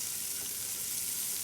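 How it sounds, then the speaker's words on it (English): Butter and oil sizzle steadily in a hot frying pan, making a dense, even hiss that carries on without a break and with no voices. "Nice little sizzle action going on."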